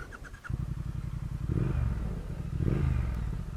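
A 2019 Triumph Speed Twin parallel-twin motorcycle engine cranks with a brief starter whine, catches, and settles into a deep, steady rumbling idle with two swelling revs, loud and close with no talking.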